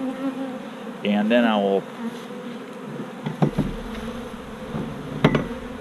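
Honey bees buzz steadily around hives at a bee yard, a continuous hum with occasional louder passes and knocks, while someone speaks briefly.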